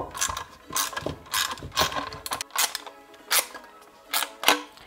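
A ratchet tool clicks in quick rhythmic bursts while tightening the license plate holder on a BMW M1000R motorcycle, close and fairly loud, with short pauses between strokes.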